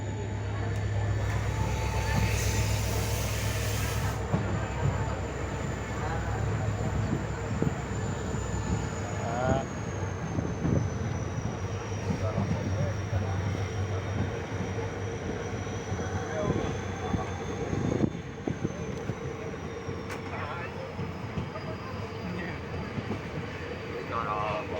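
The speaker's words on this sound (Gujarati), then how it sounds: "લાઠીથી ટ્રેન આપણી ઉપડી ગઈ છે મિત્રો" A passenger train pulling out of Lathi station rumbles steadily from the inside with a constant low drone and faint clacking of the wheels, while a voice talks over it.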